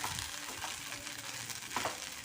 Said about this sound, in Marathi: यामध्ये आता शिजलेला राजगिरा घालून घ्यायचा आहे हे आता आपल्याला परतून घ्यायचे आहे